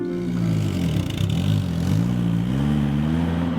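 The engine of a 1972 Lotus Elan Plus 2 revs steadily, its mid-pitched drone rising and falling slightly, with a faint clatter beneath.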